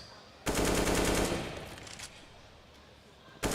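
Rapid AK rifle fire in CS:GO on the Inferno map during a FaZe versus SK grand final: one loud, dense burst of shots lasting about a second, a decaying tail, then another sharp shot at the end.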